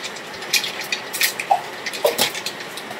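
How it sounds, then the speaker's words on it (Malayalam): Rain falls outside a home, heard indoors as a faint, steady wash with scattered soft splashes and drips at irregular moments, with no talking. "നല്ല മഴ കേട്ടോ പുറത്ത്, അതിന്റെ ഒരു സൗണ്ട് ഉണ്ട്."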